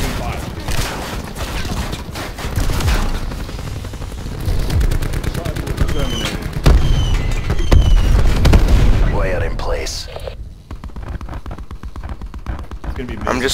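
Cluster grenade blasts in Call of Duty, a dense run of rapid gunfire pops and booming explosions that layer loudly over a couple of seconds and then fade into a quieter stretch near the end.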